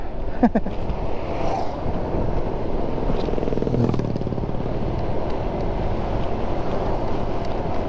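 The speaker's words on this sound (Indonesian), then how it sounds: "Kita bawa motornya santai-santai saja, tidak terlalu ngebut ya" A motorcycle cruises at an easy pace along a road on a clear day, its engine drone mixed with heavy buffeting wind noise on the microphone. The rumble is steady and fairly loud throughout, with a few brief knocks near the start.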